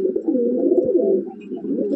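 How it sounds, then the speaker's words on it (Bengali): Madrasi pigeon from a breeding pair cooing close by, a continuous low throaty warble rising and falling for two seconds, alone without talk. "আমি এক এক করে পায়রাটা আপনাদের শক করাচ্ছি।"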